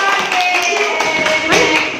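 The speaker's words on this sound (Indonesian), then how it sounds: "Oke, tepuk tangan dong." Students in a classroom clapping, a close, busy patter of hands mixed with voices talking over it.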